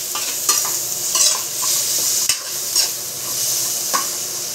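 Pork meat for laing sizzles loudly in hot oil in a pan while being stirred, with a steady hiss and repeated scraping knocks from the spoon. No one talks.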